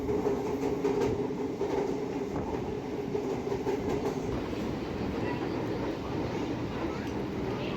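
A Chennai MRTS suburban train running between Velachery and Beach, heard from on board as a steady, loud rumble with rhythmic clickety-clack of wheels over rail joints throughout.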